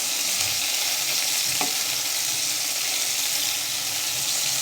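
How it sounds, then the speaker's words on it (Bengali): Mustard seeds and garlic fry in a pan with a steady, close, crackling sizzle, and a brief stirring clatter comes partway through. "আর একটু ভাজবো, কেন রসুনটা একটু বাকি আছে। সর্ষেগুলোও ভালো করে ভাজা হয়ে গেছে।"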